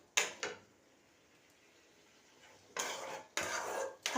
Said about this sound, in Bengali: দেখো এবারে ওই চানা আর আলুটা দিয়ে ভালো করে কষিয়ে নিতে হবে।